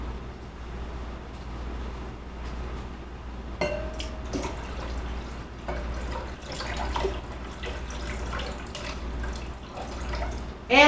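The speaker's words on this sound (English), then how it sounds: "let's go ahead and get that filled up the rest of the way with water to the 3 1/2 cup line" Tap water runs into a measuring container to the 3 1/2 cup line in a home kitchen, a low steady splashing with scattered drips and small clinks, fairly close.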